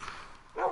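Short bark of a dog in the video game Minecraft, one brief yap rising at the end of a sub-second moment, moderately loud with no talking.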